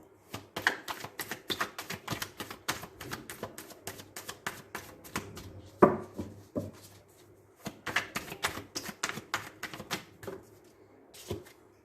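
Tarot cards being shifted and slid across a table, a long run of quick dry taps, flicks and shuffles in irregular bursts with short pauses, close and fairly quiet.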